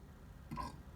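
A single short burp, faint and close, lasting about a quarter second on an otherwise quiet, low background.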